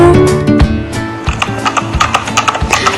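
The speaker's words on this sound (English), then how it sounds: "Here goes the horse cart, here goes the horse cart." Horse cart rolling along a road, hooves clip-clopping in a steady rhythm over a musical backing, close and fairly loud, with a brief whinny-like tone.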